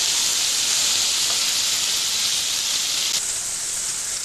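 Loud, continuous sizzling hiss of a peas paratha filling frying in a pan while being stirred, heard up close and steady with no talk.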